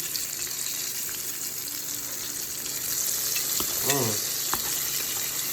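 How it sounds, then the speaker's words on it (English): Fish fillet sizzling in hot oil in a pan, a steady close crackle throughout with a brief clatter as the fish is turned over. "We're gonna fry it on the other side for another 3 minutes"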